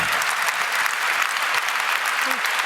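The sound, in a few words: audience applause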